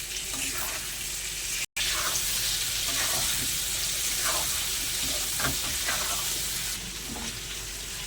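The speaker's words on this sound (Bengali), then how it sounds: "আমগুলো একটু আমি ভালো করে মশলার সঙ্গে ভেজে নেব।" Steady loud sizzling of raw mango pieces frying with spices in hot oil for pickle, with occasional stirring scrapes, continuous throughout.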